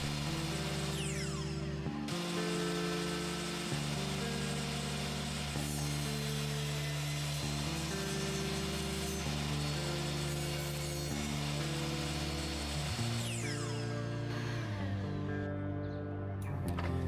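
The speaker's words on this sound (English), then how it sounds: "I'm using the table saw with the miter gauge to establish a nice straight line, then hogging out some of the material with a few more passes" A table saw fitted with a miter gauge cuts wood, its motor whining steadily while the blade bites through several passes, the pitch dipping and shifting as each cut loads the saw, loud and alone.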